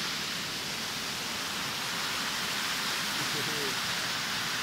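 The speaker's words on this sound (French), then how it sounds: "Tellement de belles cascades par ici." Steady, loud rush of a waterfall in autumn countryside, a continuous broadband roar that fills the whole stretch without pause or change.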